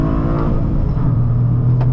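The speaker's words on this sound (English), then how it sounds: "It likes to rev pretty high too." A 2025 Toyota GR Corolla's turbocharged engine revs high under full throttle through a tight left-hander, a loud, close, sustained roar heard from inside the cabin, with no talk over it.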